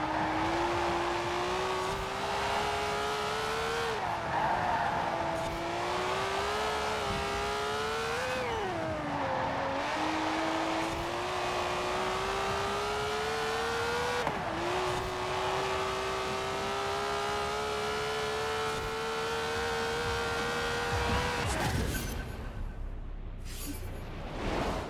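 A Ferrari 512S race car laps a test track in Forza Horizon 4. Its engine wails continuously at high revs, with pitch climbing and dropping through repeated gear shifts and lifts, and the run ends in a short burst of noise.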